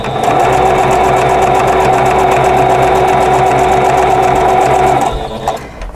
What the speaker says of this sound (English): And I'm just going to sew these one row at a time.